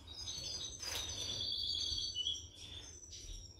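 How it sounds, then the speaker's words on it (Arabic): A young mutation goldfinch, white-headed and white-throated, sings close by in high bright twittering phrases and thin sustained notes, fairly faint, with no talk over it. "هذا حسون طفره تيت بلانش اي غورج بلانش"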